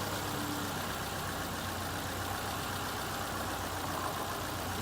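A 2001 Subaru Outback Sport with its catalytic converter and muffler removed idles with a loud, steady, raw rumble that holds constant throughout, close by and without talk.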